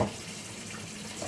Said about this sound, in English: drain them in cold water, rinse them